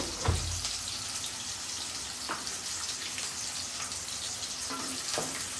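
Sliced onion frying in a pan on a stovetop burner with the heat turned up, a steady broadband sizzle lasting throughout, with a low thump near the start and a few faint clicks over the hiss.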